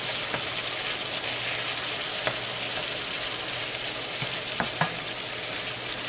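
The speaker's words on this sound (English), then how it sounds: "Shrimp takes very little time to cook." Shrimp frying in a pan for curry, a steady broadband sizzle that runs unbroken throughout, with a few light clicks as the pieces are turned; close and fairly loud, no talk.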